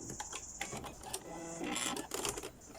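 A sewing machine running a back stitch at the end of a seam, quiet mechanical whirring and clicking in short uneven runs, close by and faint.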